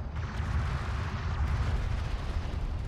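A destroyed enemy railgun explodes in Homeworld: Deserts of Kharak, a sustained rumbling blast with heavy low-end roar and crackling debris continuing steadily throughout, no voices present.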